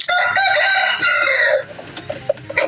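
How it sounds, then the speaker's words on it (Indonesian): A Bangkok rooster gives one full crow that lasts about a second and a half, followed by a few short, quieter clucks close by. "dia tuh dia udah bisa berkokok dan sudah lancar"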